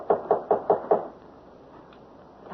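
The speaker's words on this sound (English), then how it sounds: "I'll knock again." Five firm knocks on a door in a quick, even run, fairly close, followed by a quiet pause with a faint room hiss.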